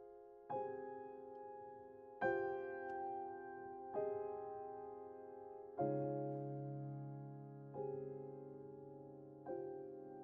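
Solo piano plays an arranged version of a melody first composed in France in 1929, six unhurried phrases each opening with a struck chord that rings and slowly decays, close and clear with no voices.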